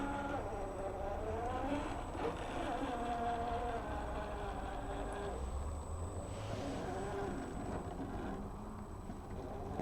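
A Traxxas RC car creeps along slowly in low gear with one wheel over an obstacle, its electric motor giving a steady, continuous whine with shifting tones throughout.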